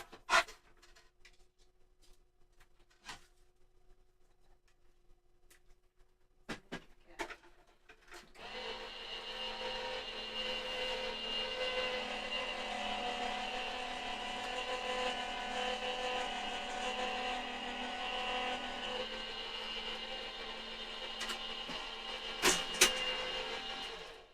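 A card-making machine switched on after a few faint clicks and knocks, then a steady mechanical whir and rumble as card is fed through, running continuously for about fifteen seconds with a couple of sharp clunks near the end.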